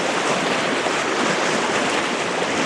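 Strong river current rushing through the Zion Narrows, a loud, steady broadband roar of moving water that fills the scene without a break, close to the listener and heard alone.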